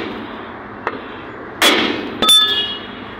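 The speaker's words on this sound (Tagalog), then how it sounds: "kumuha kang martilyo, pupukin mo to, oh, para maalog yung lining sa loob" A hammer strikes a car brake drum to loosen the lining inside: one light tap, then two sharp metallic clangs with ringing overtones, close and alone with no talk.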